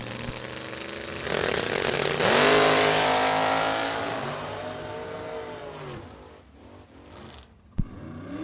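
Rear-engine dragster at a drag strip bracket race, a loud roaring engine that rises in pitch as it launches and pulls away, fading into the distance, with a sharp pop near the end.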